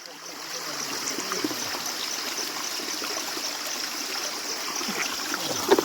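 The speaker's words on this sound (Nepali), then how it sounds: "अब प्योर नेचरकै पानी हामी थाप्ने हो" Water trickles steadily from a natural forest spring high in the mountains, a soft continuous babbling flow heard close by with no voices.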